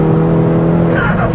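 A red 2016 Honda Civic Type R slides with its tires squealing, and the loud, steady tire-and-engine roar fills the whole short stretch with no break.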